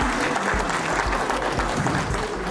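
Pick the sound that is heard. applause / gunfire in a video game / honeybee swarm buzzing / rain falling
applause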